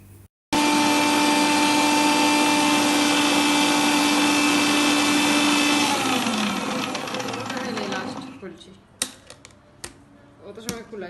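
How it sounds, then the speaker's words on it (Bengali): An electric blender whirs loudly and steadily while blending oil and lemon juice for mayonnaise, then winds down, followed by a few sharp knocks and clatters. "আর সব কিছু দেওয়া হয়ে গেলে আমি ব্লেন্ডারটা অন করে নিচ্ছি"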